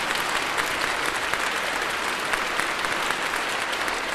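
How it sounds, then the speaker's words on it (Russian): Steady, dense audience applause at a beauty pageant in Western Ukraine (Bukovina), a full hall clapping continuously at even loudness with no voices on top. "Михаил Грицкан, ваш аплодисменты."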